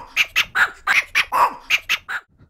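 A dog bark sample played back on a 4MS Stereo Triggered Sampler, fired by a sequencer gate: about ten sharp, evenly spaced barks repeating in a quick rhythm, loud and close, with no talking.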